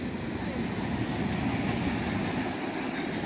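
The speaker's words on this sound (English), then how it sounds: "Well, hey, this is the second train that went by." A long train rolls past at an abandoned railroad yard, a steady, loud, continuous rumble of wheels and cars with no break for the whole stretch.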